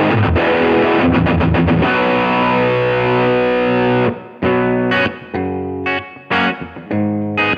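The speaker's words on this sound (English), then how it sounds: "I'm able to jump from a huge distortion sound" An electric guitar plays heavily overdriven, distorted chords through a pedalboard, first fast chugging strums, then sustained ringing chords cut off by abrupt stops and restarts, with no talking.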